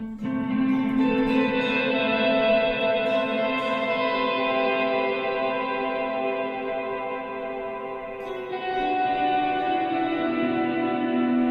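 A sustained tone through a Strymon blueSky reverb pedal set to a very large space with long pre-delay, washed in vast, lingering reverb that blooms and hangs in the air, smooth and continuous with a slight swell near the end.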